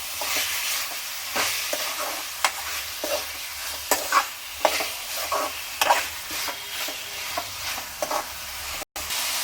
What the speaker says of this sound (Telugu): పసుపు యాడ్ చేసుకున్న తర్వాత ఒకసారి కలుపుకోవాలి.